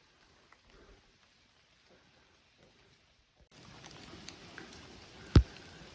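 Light rain patters softly at a distance on a backpacking trail in the Roaring Plains, quiet at first and becoming a steadier hiss partway through, with one sharp tap near the end.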